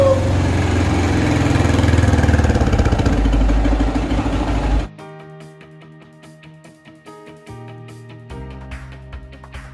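An Asian Beast Hyper X 250 motorcycle idles loudly and close with a steady, throbbing engine note for about five seconds, then cuts off abruptly, leaving quieter tonal sounds.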